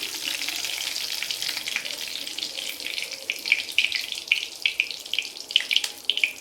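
Cumin seeds and curry leaves sizzle in hot oil in a pan, a steady close hiss broken by sharper crackles and pops that grow busier toward the end.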